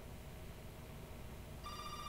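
A telephone rings in a TV episode, the tonal electronic ring starting near the end, loud over a busy, continuous background of episode sound.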